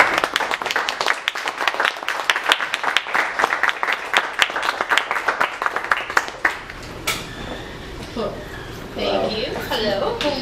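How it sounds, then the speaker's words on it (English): An audience at a Startup Grind gathering in Kalamazoo claps in a standing ovation, with lively, close hand claps for about seven seconds before the clapping fades and a voice begins talking. "how about a standing ovation and applause for Nancie?"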